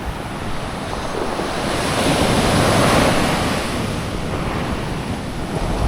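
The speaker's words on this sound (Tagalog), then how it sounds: "Nagkakatugma na yung high tide at saka yung lakas ng dagat." Strong sea waves crashing at high tide on the shore of Camiguin de Babuyanes island at Panan Bay during a typhoon, a continuous loud roar of surf mixed with wind buffeting the microphone.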